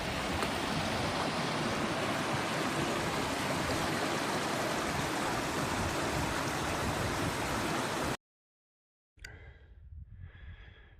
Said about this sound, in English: Some nice little waterfalls to look at as you're coming down.